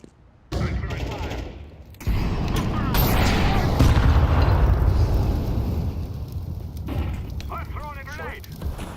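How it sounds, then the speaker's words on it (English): A fire grenade bursts in Counter-Strike 2, a sustained roaring whoosh of flames amid loud gunfire, with a voice talking over the clamor. "I'm throwing fire."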